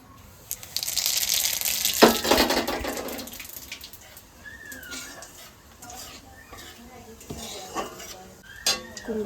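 Pumpkin greens hit hot fish-frying oil with a loud, sudden sizzle, followed by scattered clinks and scrapes of a utensil stirring in a pan.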